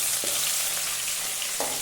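Chopped onions and chana dal fry in oil in a home kitchen pan for vegetable upma, giving an even, close sizzle with a couple of soft stirring scrapes. No voices are heard.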